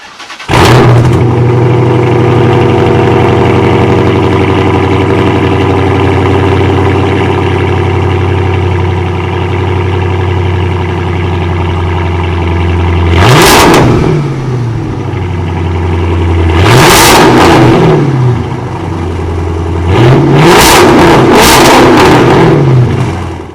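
Hemi V8 in a Chrysler 300 with straight-pipe exhaust idles with a deep, steady rumble, then blips the throttle in three loud revs, the last a quick double rev, heard close with no talking.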